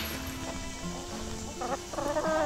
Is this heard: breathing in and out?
no